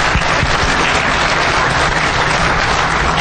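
Dense, steady applause from a conference audience at a DEF CON hacking talk, loud and continuous throughout with no voices over it.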